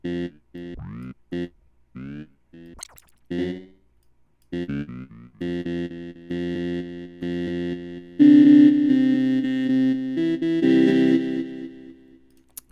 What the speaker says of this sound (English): with this delay line, using the delay frequency, you can kind of get different types of echo effect